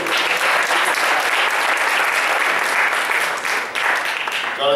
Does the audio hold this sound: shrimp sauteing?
no